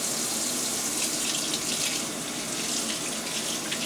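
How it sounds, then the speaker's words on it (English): Tap water runs steadily into a sink while makeup brushes are rinsed, a close, continuous splashing stream with no voices. "you just want to really rinse the water out"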